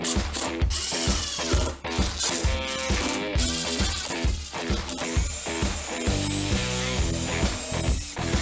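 Clamps are ratcheted tight on a glued-up wooden noodle board, producing quick runs of repeated mechanical clicks close by with brief pauses between them.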